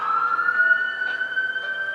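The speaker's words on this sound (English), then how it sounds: "the sirens, I don't know if you guys can hear that" Emergency vehicle sirens sound outside as a loud, sustained steady wail that holds the same pitch throughout, with faint background noise underneath.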